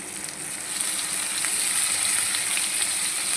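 Soaked dried brinjal pieces fry in hot oil in a pan, producing a loud, dense, continuous sizzle close up, with faint crackles and no voices.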